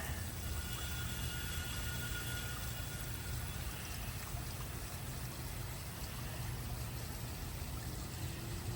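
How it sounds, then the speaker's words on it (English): Lawn sprinklers spray water across a backyard in a steady, even hiss and patter that holds constant at low level for the whole stretch, with no voices. "All right, so we're watering back here."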